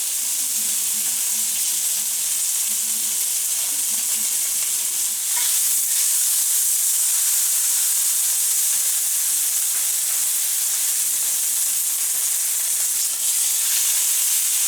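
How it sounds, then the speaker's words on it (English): A piece of pork browning in extra virgin olive oil in a pan, a loud, continuous close sizzle and hiss with slight crackling, steady for the whole stretch and no talk. "we're going to grab our piece of pork and brown it on all sides"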